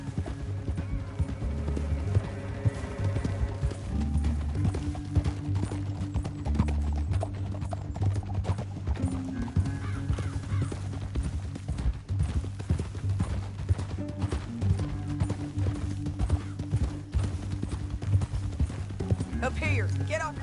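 Horses galloping across open ground in the video game Red Dead Redemption 2, a steady rhythmic clip-clop of hooves running on under loud music for twenty seconds, with an occasional whinny.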